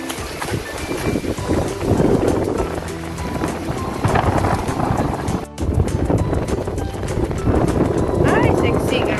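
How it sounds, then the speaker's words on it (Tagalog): Strong monsoon wind roars into the microphone in heavy, continuous gusts, loud and close, with a brief cutout partway through. "Ito pala yung habagat. Grabe yung hangin."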